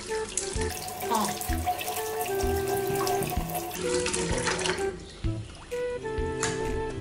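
Tap water runs into a kitchen sink while thawed pork is rinsed, a steady close splashing gush with handling noises throughout, and no voices over it.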